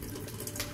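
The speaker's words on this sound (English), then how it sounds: "we're going to flush the toilet" Toilet flushing during a nursing bedpan-care demonstration, a brief close rush of running water that lasts under a second.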